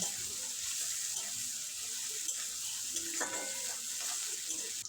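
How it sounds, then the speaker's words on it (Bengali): Chopped onion and green chilli fry in hot oil with a steady, close sizzle and crackle that runs the whole time, with a few light scrapes and clinks of stirring partway through. "তেল ভালোভাবে গরম করে তাতে দিয়ে দেব টুকরো টুকরো করে কেটে রাখা পেঁয়াজ আর কাঁচা লঙ্কা কিছুক্ষণ ভেজে নেব"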